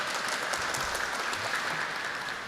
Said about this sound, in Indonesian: boleh tepuk tangan dulu buat semuanya